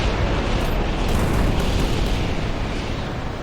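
Carrier weapon firing and exploding in Carrier Command 2, a dense continuous roaring blast with a deep rumble that stays loud and close throughout, with no talking.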